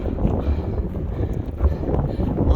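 Wind buffets the microphone outdoors in the Grayson Highlands, a loud, low rumbling gust with no clear pauses.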